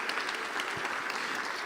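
A church congregation applauding during a service, a dense, steady wash of clapping from many hands filling the room, even and sustained throughout.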